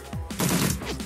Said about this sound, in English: Let's go back to the burst fire.